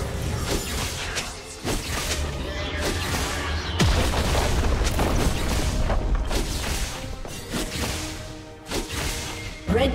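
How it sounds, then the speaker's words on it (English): A turret collapsing in a League of Legends match, Ryze against Sylas in mid lane, with repeated heavy booming crashes and whooshing impacts, loud and dense over continuous game effects. "team's turret has been destroyed."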